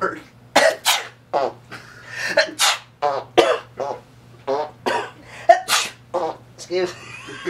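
A man vocally imitates a sneeze and then a fart as a comic sound effect, producing a quick series of breathy, explosive bursts and sputtering noises, close and fairly loud, with nothing else around them.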